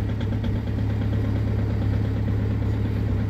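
Audi A4 B7 2.0 TDI diesel idling after a cold start in freezing weather, steady low rumble with a clattery knocking edge, close and continuous with no talk.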